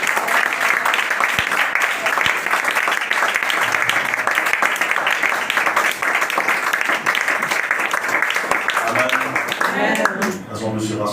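A church congregation applauds loudly and steadily in a dense, continuous wash of claps that fills the room, with a voice speaking over the tail end.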